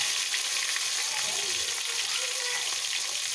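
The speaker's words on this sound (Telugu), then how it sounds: "టమాటా వేసుకొని" Chopped tomato hitting hot oil in a pan for Nellore fish curry gives a steady, bright sizzle and crackle close up, continuous throughout with faint stirring and no clear talk.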